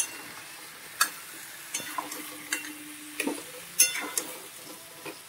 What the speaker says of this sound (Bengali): মশলা দিয়ে একটু খানিকক্ষণ কষিয়ে নিই